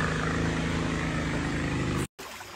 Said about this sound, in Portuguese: Tem um barco passando.